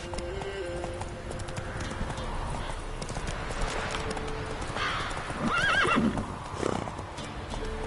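Roach the horse in The Witcher 3 clip-clops at a steady gallop, then gives a loud neigh near the end, with the hoofbeats continuing throughout.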